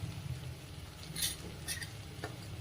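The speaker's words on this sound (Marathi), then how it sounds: "आता तेल सुटेपर्यंत व्यवस्थित असं परतून घेऊ" Egg curry masala with turmeric and red chilli being stirred in oil in a pan, a low steady sizzle broken by a few brief scraping stirs, quiet and close with no talk.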